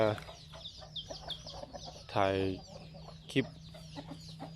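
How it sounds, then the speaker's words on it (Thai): Backyard chickens kept on a small Thai farm cluck in a loose, irregular chatter, with a louder squawk near the middle; someone talks over them throughout. "ไก่ที่เลี้ยงไว้ให้ดูครับผม"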